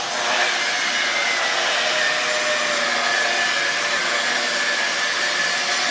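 A polisher with a red foam pad and D1 product working at slow speed, around 1,000 RPM, on a wood finish, giving a steady, close, continuous whirring hum with no pauses and no talk.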